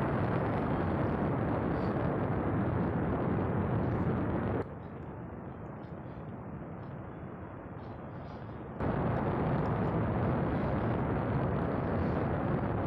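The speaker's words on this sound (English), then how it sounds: "Our rocket working fine, guys." A rocket engine firing in the Space Flight Simulator game: a loud, continuous roar that drops to a muffled, quieter rumble for a few seconds, then returns at full strength.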